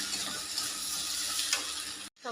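Water added to egg curry in a hot pan, a loud steady hiss and sizzle close by for about two seconds before cutting off abruptly.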